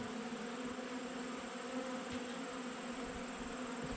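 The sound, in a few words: bees buzzing around an open hive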